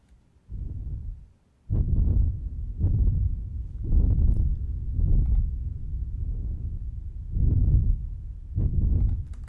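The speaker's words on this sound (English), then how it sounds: "It's basically an ambience bed of sorts" A long reverberant rumble bed from Evangelion-style sound design: deep, heavy booming swells that pulse repeatedly, each low surge ringing out and overlapping the next in a continuous, loud, throbbing wash.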